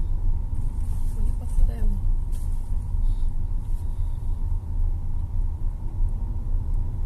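A car rolls slowly through the parking lot of the Basilica in Aparecida, a low steady engine rumble heard from inside the cabin with faint background noise.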